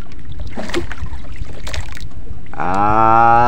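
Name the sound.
boat out at sea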